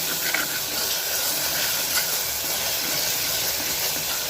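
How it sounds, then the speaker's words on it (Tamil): Ginger-garlic paste sautés in a hot pan for a beef gravy, giving off a steady, loud, unbroken hiss of frying with no distinct stirring strokes and no voices. "வாசனை போகிற வரையும் நல்லா வதக்கிக்கலாம் இஞ்சி பூண்டை."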